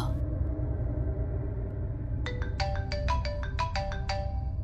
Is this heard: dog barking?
no